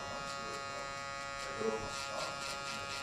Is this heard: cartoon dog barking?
no